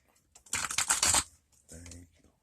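Tarot cards being shuffled, a short brisk riffle of crisp flicking cards followed by a second softer burst, close and fairly quiet.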